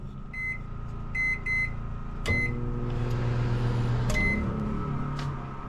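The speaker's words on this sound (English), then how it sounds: "the go-to item when you see if you got power is your microwave" A series of short electronic beeps, then a microwave oven in a toy hauler trailer powered by a generator starts with a clunk and hums steadily, its motor drone continuing up close.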